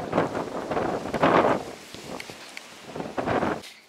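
Strong spring wind gusts across the microphone on an open lakeshore or riverbank during carp fishing, roaring in uneven bursts with rustling and no speech.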